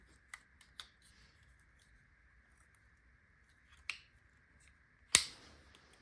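A few sharp plastic clicks from the legs of a HASLAB Deathsaurus toy being folded out, two light snaps early on, then a louder click and a final crisp snap, over a faint steady background hum.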